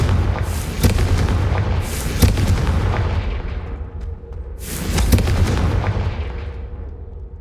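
Confringo blasting spells explode in Hogwarts Legacy, a run of loud, deep booms and blasts that rumble and overlap, then fade toward the end.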